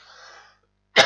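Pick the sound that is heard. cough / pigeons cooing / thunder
cough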